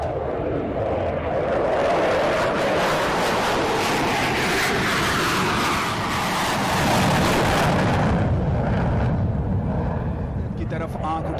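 Indian Air Force jets roar overhead during an Air Force Day flying display at Hindan Air Base, a loud, sustained rumbling jet noise that swells and fades, with a voice talking over it.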